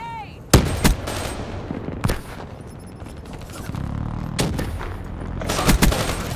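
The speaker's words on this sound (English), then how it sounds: "Incoming nade!" A grenade explosion and gunfire in a Black Ops 3 multiplayer match: sharp, loud shots crack at irregular intervals over a steady rumbling battle din, with a heavier blast toward the end.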